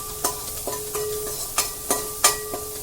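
Ginger-garlic paste with green chilli fries in a pan with a low steady sizzle, broken by sharp scraping strokes of a spoon about every half second, close and alone with no talking.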